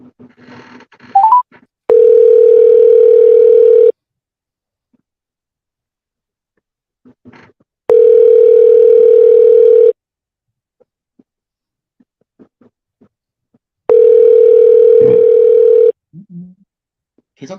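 A telephone ringback tone sounds while a call is placed, three long steady two-second tones separated by roughly four-second gaps of near silence, loud and clear with faint handling noises between.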